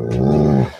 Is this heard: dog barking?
yes